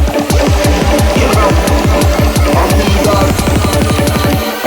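Dubstep track, driven by a loud, rapid run of evenly spaced pulsing bass hits that sound like a throbbing drill, with no talking over it.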